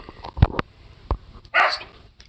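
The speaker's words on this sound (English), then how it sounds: "Fucking dog." A husky barks a few times in short, sharp bursts, close by and fairly loud, followed by a brief burst of noise, with no talk.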